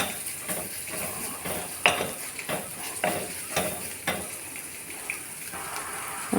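Ground spice powders sizzle in hot oil in a pan for a Kerala kovakka (ivy gourd) mezhukkupuratti, with a steady fry hiss broken by repeated scrapes and clinks of a spoon stirring against the pan, close and moderately loud.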